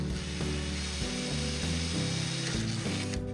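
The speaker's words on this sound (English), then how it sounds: "I'll find that hole, and I'm just going to go ahead and drill it" A power drill whirs continuously at close range, drilling a hole in a RANS S-21 aircraft wingtip, its motor pitch shifting slightly as it bites, ending abruptly.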